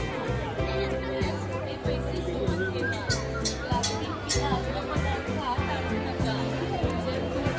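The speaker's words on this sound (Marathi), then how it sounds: "एकदम फुल गर्दी आहे." Dense crowd chatter fills a busy Sunday at Mumbai's Rani Baug zoo in Byculla, a steady wash of overlapping voices with a repeating rhythmic thump of music running beneath it throughout.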